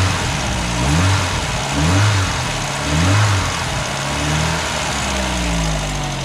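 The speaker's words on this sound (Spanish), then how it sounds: "voy a dar gas, pero suena a escape" A Skoda Felicia LX 1.3 MPI multipoint-injection engine is revved in about four rhythmic pulses, each swelling and falling back to idle, loud and close with a raspy exhaust note, no talking.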